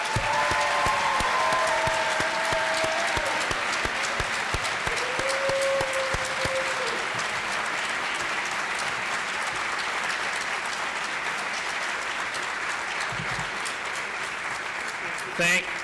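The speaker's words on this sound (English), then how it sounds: "So if we can just give Ms. Freitas a round of applause." A large school-auditorium audience gives a long, steady round of applause at a grade-level awards ceremony, dense clapping sustained evenly throughout with no voices over it.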